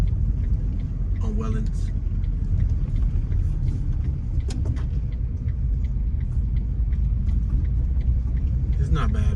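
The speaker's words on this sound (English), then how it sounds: "I'm gonna make a U-turn here just so y'all can see what they living like over here." A car makes a U-turn on a quiet residential street in Frayser, Memphis, Tennessee, with a steady low engine and road rumble heard from inside the cabin throughout while someone talks over it.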